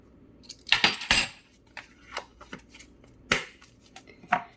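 Dry ingredients and sugar stirred together in a bowl, a series of scraping, clinking strokes of a utensil against the bowl, close and fairly quiet, with irregular bursts and pauses and no talking.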